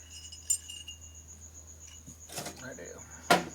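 A cricket chirps in a garage during a Harley-Davidson Evo engine rebuild, a thin, steady, repeating trill close by, interrupted by clinks of tools and brief knocks.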